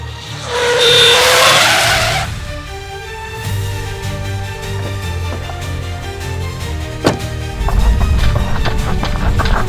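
A car's tyres squeal loudly in a long skid before it halts, followed by engine rumble, a door thud and scattered clunks as it sits idling, with no voices.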